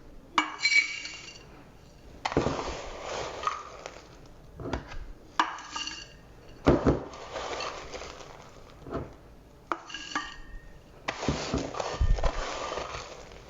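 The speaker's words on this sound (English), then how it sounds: "you just take a measuring cup and just scoop it in" Homemade granola scooped with a measuring cup into a glass container: scattered clinks and scraping rustles in separate bursts, close and fairly quiet, with pauses between scoops and no talk.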